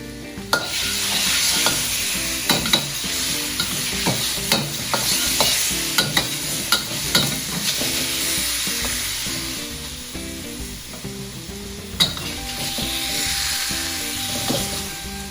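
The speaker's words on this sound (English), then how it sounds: "so that's browning the beef" Beef browning in a hot wok for rendang: a continuous close sizzle with frequent rhythmic scraping and tossing strokes of a utensil against the metal, no speech.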